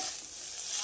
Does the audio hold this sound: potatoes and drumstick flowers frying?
yes